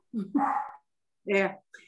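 Dog in a room giving a few short barks and yelps, two quick bursts, a longer bark, then a brief yip, close and fairly loud with silence between them.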